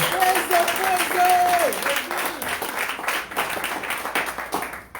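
A church congregation claps and applauds during a service of thanksgiving, a dense, loud burst of clapping that tapers off over a few seconds, with a voice briefly audible near the start.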